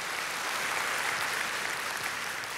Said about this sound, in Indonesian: kalau mau tepuk tangan ya meriah dong saudaraku